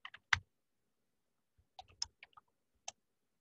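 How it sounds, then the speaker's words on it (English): Computer keyboard keys clicking in a few sparse, quiet taps, with a short cluster of keystrokes, then a pause and a final single tap. "I like typing this, period."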